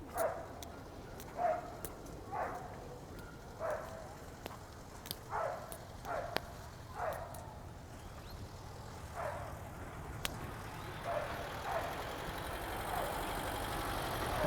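A dog barking repeatedly in Parque Hundido, a quiet city park in Mexico City, a steady series of single barks at moderate distance over a low background hum of traffic.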